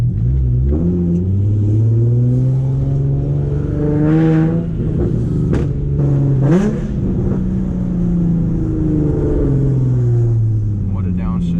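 A Nissan 350Z with a full Tomei exhaust and welded differential drives and revs from inside the cabin, engine note climbing and falling through gear changes, loud and close, with a voice speaking over it at times.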